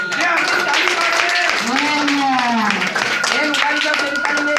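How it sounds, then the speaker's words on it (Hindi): A church congregation claps hands together in a steady burst of applause while voices sing and call out over the clapping. "जोरदार ये अपनी ताली मारे"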